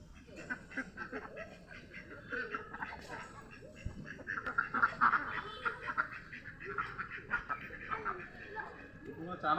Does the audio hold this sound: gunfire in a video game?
no